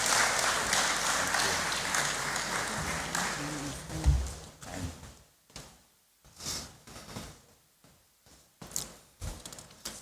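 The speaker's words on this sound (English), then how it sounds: "Please, we clap until he gets here." An audience at the Annual New Year School and Conference in Ghana applauds, with dense, loud clapping at first that thins into scattered bursts of claps and fades by the end.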